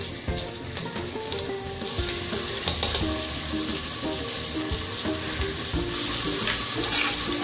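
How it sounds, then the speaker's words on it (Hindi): Ginger garlic paste fries with onions in a pan for pulao, giving a steady, loud, close sizzle with scattered stirring scrapes and clinks throughout. "तभी हम इसमें डाल देते हैं अदरक लहसुन का पेस्ट"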